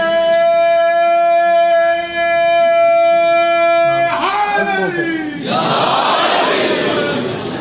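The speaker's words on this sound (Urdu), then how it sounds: "نعرہ لاؤ تے سارے لاؤ" At a Shia majlis gathering, a long sustained vocal note gives way to a loud crowd chanting a religious slogan together, rough massed voices swelling in two bursts close by.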